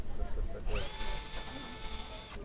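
A power tool runs in drilling mode, a steady whining drone with a tone that rises as it spins up and then holds, close by with voices faintly in the background.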